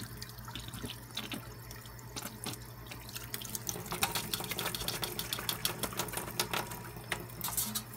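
Water runs and splashes in small bursts near the microphone, rinsing inside a drained eggshell, a faint trickling rinse over a low steady hum.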